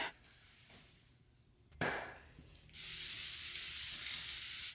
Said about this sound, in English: I don't know why I like this face spray so much.